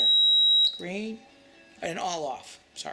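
An Arduino-driven buzzer emits a steady, loud electronic beep that cuts off abruptly, followed by a person talking.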